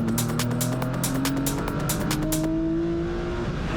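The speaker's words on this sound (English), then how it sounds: "that's the 56 car of Jason Brown coming past Shiraz Khan" Porsche race cars in a sprint challenge race passing on a circuit, loud engine drone with shifting pitch as cars sweep by close, tire noise and a second car following, fading slightly at the end.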